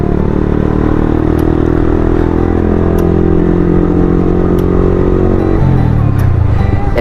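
A motorcycle engine that has lost power runs loud and close in a rough, steady rumble that holds even, then dips in pitch near the end.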